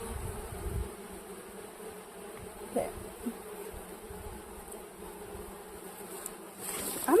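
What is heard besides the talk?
bees buzzing around hive frame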